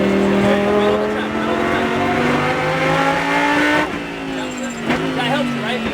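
A Lamborghini Super Trofeo race car accelerates hard on a Las Vegas track, its engine note climbing loudly and steadily through a gear change, heard close from inside the cockpit.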